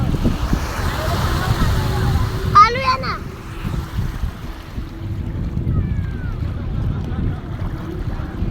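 Sea waves roll in at Girgaon Chowpatty beach in Mumbai, a steady wash of surf and wind noise. A brief horn-like tone cuts through partway, and people talk nearby.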